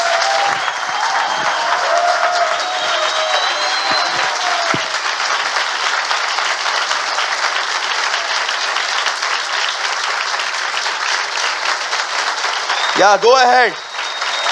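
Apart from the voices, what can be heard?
audience applause for Jesus at a church service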